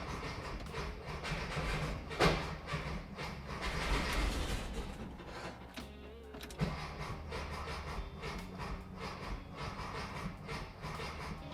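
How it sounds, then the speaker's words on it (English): A 1975 VW Bus engine with a suspect carburetor cranks with a steady, rhythmic churning from the starter that runs for several seconds, dips briefly, then keeps turning over without catching. "clutch in, give her a couple of pumps, key on, crank."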